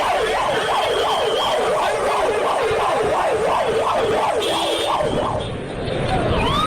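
An ambulance siren arriving at an accident scene wails loudly in a steady rising-and-falling sweep, repeating many times over a background of traffic noise before cutting off near the end.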